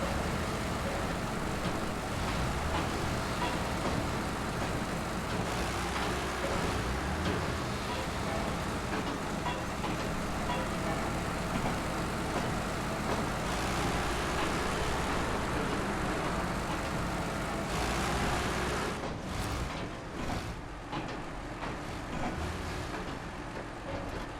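Truck engine running in the SnowRunner video game, a steady loud continuous drone and rumble lasting throughout with little change.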